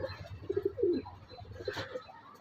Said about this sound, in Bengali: ফুলসিরা টিপলার পায়রা, অনেক পায়রাই আছে